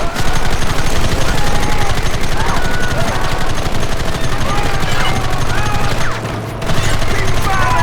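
Dense, continuous gunfire in the Red Dead Redemption video game, rapid rattling shots layered over each other at high volume, with a brief dip near the end and shouted voices mixed in.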